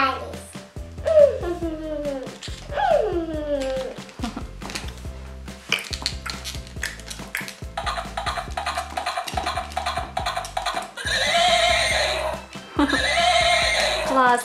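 A My Little Pony toy horse gives two descending electronic whinnies near the start, followed by bright jingling toy sound effects and music throughout.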